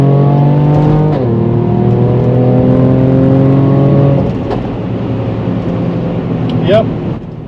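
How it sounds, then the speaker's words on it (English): Mercedes-AMG GLE 43 engine revving hard, a loud rising drone with steady harmonics that drops sharply and settles, followed by a quieter idle with a short squeak near the end. "Hear that engine."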